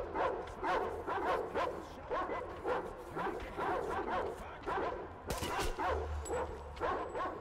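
Repeated dog barks and yips from the Metro Exodus video game, coming in a steady rhythmic series of loud, close yaps with some whimpering and faint background noise.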